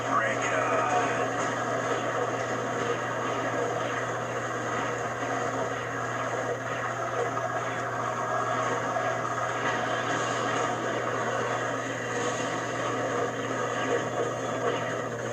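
Helicopters in the video game Ratchet & Clank 2, a steady droning rotor and engine hum running continuously at even level, with someone talking over it throughout.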